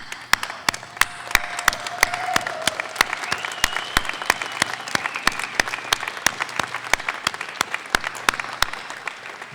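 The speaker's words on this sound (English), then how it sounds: "give them a big round of applause" Graduates at a 2021 Neumont College of Computer Science commencement ceremony applaud their loved ones, with crisp, individually distinct claps over a steady bed of crowd applause, continuous and close, with no talking.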